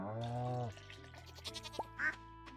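A goat bleats once, loud and wavering, in the video game Starworld Farm, followed by soft clicks and a brief quack-like call in a quiet game scene.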